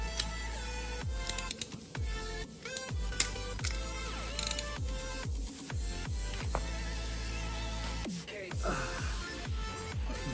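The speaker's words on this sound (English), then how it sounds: "use your tool wrench" A ratchet wrench works on the oil drain plug of a Ducati Monster Plus 937 motorcycle, giving repeated close metallic clicking strokes in an uneven rhythm with brief pauses between turns.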